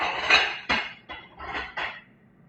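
Ceramic bowls and dishes clink and clatter in a home kitchen while a pasta bowl is picked out, five or six sharp knocks spread over a couple of seconds, close and fairly quiet.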